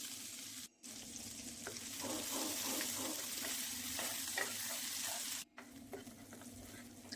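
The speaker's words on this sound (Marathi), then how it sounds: "वाटणसुद्धा आपल्याला इथे चांगलं परतून घ्यायचं आहे." Spice paste sautéing in oil in a pan, a continuous close frying sizzle with stirring scrapes and crackles, interrupted by two short silent gaps.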